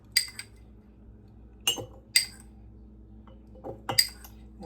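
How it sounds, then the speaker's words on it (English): Chopped onion spooned into glass pint jars for pickling, giving a few sharp metal-on-glass clinks of a spoon against jar rims, spaced irregularly and quiet, with soft scraping between. "put a teaspoon of chopped onion in each jar"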